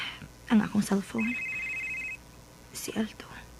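Cellphone ringtone chirping as a steady electronic tone for about a second, heard under quiet speech in a radio drama scene.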